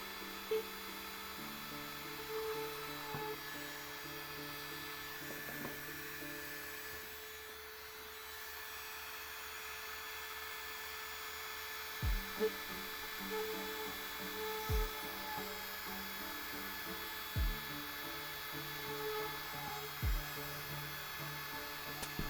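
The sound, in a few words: drill or rotary tool drilling a hole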